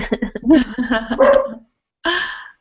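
Dogs barking indoors, a quick run of loud, close yelping barks followed by a short silence and one more bark.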